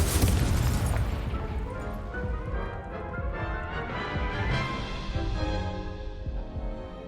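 Incendio fire spell cast in Hogwarts Legacy, a loud fiery whoosh and explosive boom opening the moment, followed by a sustained roaring, crackling rumble of flames and combat.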